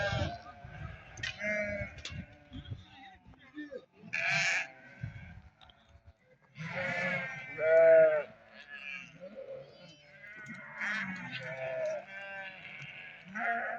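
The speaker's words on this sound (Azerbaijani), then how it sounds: "Ha, yekə quzular görürsən." Lambs bleat repeatedly at a livestock market, several close, loud calls rising above a busy background of voices and farm noise, with people talking throughout.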